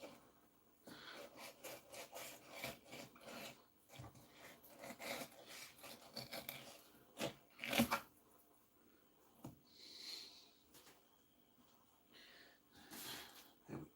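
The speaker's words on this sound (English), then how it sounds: "Just keep the knife to the bottom of the board. Keeping the fillet, keeping the skin tight." A knife drawn along the bottom of a cutting board to skin a fish fillet, with the skin held tight, giving quiet scraping, rasping strokes in short bursts with pauses between them, close by.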